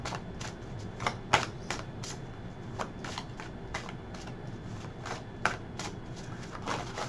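Tarot cards being shuffled by hand, a run of crisp riffling flicks and soft slaps in an uneven rhythm, close and fairly quiet, with no voices.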